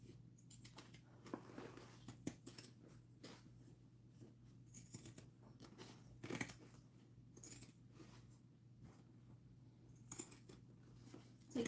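Scissors snipping along fabric curves while sewing, giving quiet, close crisp cuts in irregular bursts against a low steady hum.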